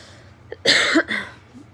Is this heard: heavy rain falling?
no